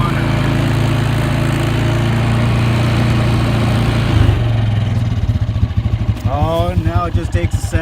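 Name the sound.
Bombardier Traxter ATV Rotax engine idling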